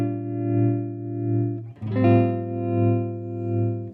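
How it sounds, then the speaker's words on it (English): Guitar runs through a Chase Bliss Audio Gravitas analog pedal set to harmonic tremolo, sustained chords swelling and dipping in a slow, smooth pulse, with a chord change midway; no voices. "Now we can switch over to harmonic tremolo."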